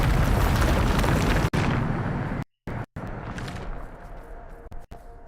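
A booming spell blast from the Bombarda spell in a video game erupts into a loud, sustained roaring rumble that fades out, broken by a few abrupt silent cuts.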